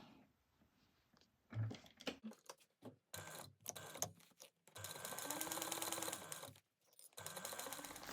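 A quiet sewing machine stitches lining pieces at a 3/8 inch seam allowance, with short stop-start bursts of clicking and then two longer runs of steady, rapid mechanical whirring.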